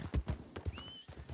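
A horse in a video game chase scene, quick hoof clip-clops in an uneven rhythm, loud and close, with a brief whinny-like tone in the middle.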